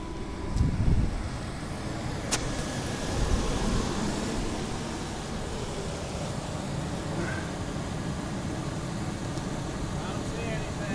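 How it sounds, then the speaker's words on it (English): A car engine idles steadily after a fresh oil change, a low continuous hum under faint background noise with a slightly louder moment near the start, heard alone without talk. "Engine sounds pretty good."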